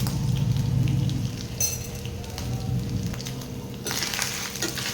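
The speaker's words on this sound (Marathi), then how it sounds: "व्यवस्थित परतवून घेऊया कढीपत्ता ऍड करू" Curry leaves sautéing in a pan with ginger and green chilli for a sweet-sour fasting kadhi, giving a steady crackling sizzle that flares briefly near the end, close and alone without voices.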